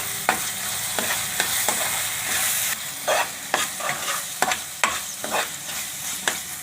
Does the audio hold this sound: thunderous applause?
no